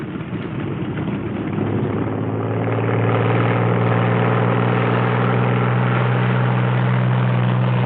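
Propeller-driven Thunderbolt fighters taxi out in a pair, their engines droning loudly and steadily with a deep, throbbing hum that slowly builds.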